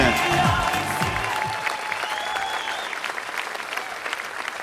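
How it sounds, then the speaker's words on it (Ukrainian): Wedding guests applaud in honour of Ukraine's defenders, a strong round of clapping that begins over a fading sung or held tone and continues steadily, then thins out gradually toward the end. "Ваші оплески!"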